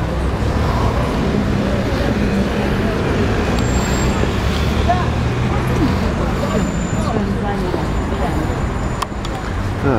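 Steady road traffic fills a city square in Kaliningrad just after a parade, a continuous dense rumble of cars and buses with occasional brake hiss, heard close and loud throughout.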